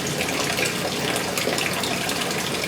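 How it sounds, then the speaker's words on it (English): Water being siphoned out of a homemade 5-gallon baby brine shrimp hatchery, a steady close rushing trickle that flows without a break. "So we're going to siphon this down"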